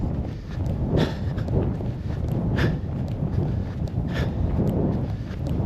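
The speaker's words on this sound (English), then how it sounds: "It's so windy out here." Heavy wind buffeting a microphone outdoors during a muddy run, a constant low rumble with gusty thumps and a few faint clicks, no voices.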